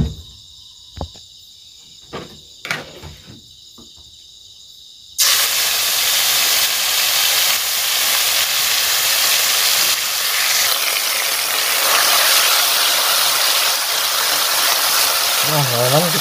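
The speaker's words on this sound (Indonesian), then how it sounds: "Minyak sayur kita tumis dulu" Spice paste hitting hot vegetable oil in a pan for a goat meat dish, bursting into a loud, steady hiss and sizzle that runs on without a break after a few quiet knocks and clatters at the start.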